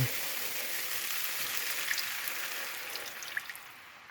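Homemade beef broth made from beef bouillon heating toward a boil in a pot, a steady soft bubbling hiss with faint scattered pops throughout, close and moderately quiet, no voices.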